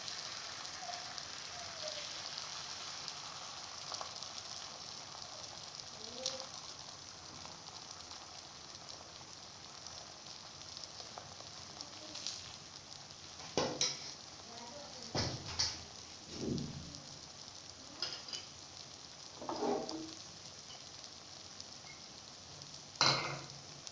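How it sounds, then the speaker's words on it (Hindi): Egg paratha batter cooks on a hot pan with a soft, continuous sizzling hiss, broken by a few brief louder crackles and scrapes toward the end. "अब हम इस पे डालेंगे ये बैटर जो हमने तैयार करके रखा था"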